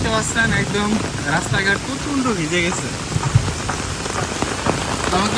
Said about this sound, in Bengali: আমরা কিন্তু এখন বৃষ্টিতে ঘুরতে আসছি